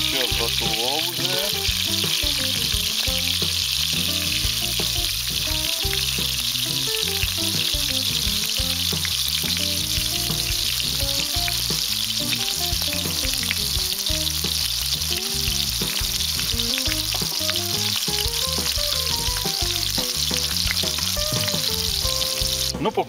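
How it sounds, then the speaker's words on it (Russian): Onions sizzle and crackle steadily in a hot pan throughout, with a voice talking faintly underneath. "покуда лук жарится"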